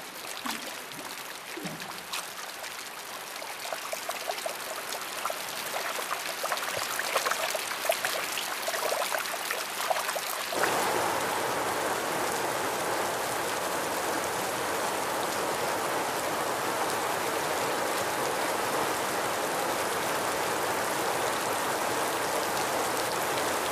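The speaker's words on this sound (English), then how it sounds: "He orders a great rainy season, a downpour without precedent." Heavy downpour of rain on the Masai Mara, a dense, loud hiss that thickens abruptly partway through and then pours steadily without letup.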